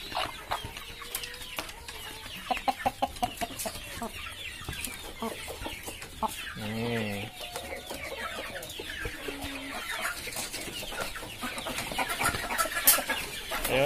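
Backyard chickens cluck and peck busily while eating black soldier fly (BSF) maggots, with a steady chorus of short clucks and scratchy feeding noises close by, and one louder drawn-out call in the middle.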